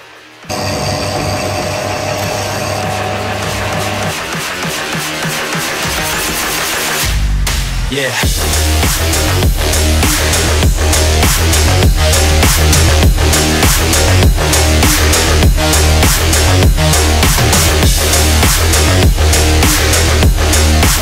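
Loud continuous power tool whine while a resin skull is sanded, shifting pitch partway through and then settling into a steady drone with rhythmic rattling pulses.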